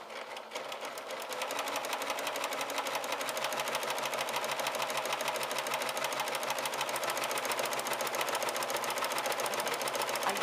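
A sewing machine stitches a gathered ruffle for a pettiskirt, starting after a quiet moment and then running steadily and fast with a dense, even mechanical chatter for about nine seconds, close and alone.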